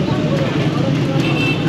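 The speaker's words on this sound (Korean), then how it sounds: "오토바이들이 너무 많아요." Dense street traffic around a Tehran market, a constant loud roar of engines and motorcycles mixed with crowd babble, steady and close with no break.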